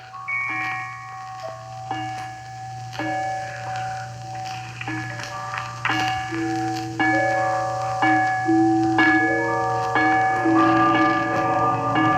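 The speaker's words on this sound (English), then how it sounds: "he saw this bell begin to swing" An old bell swings and rings as a radio drama sound effect for A Christmas Carol, with repeated resonant strikes building steadily and ringing over a low steady hum, with no voices.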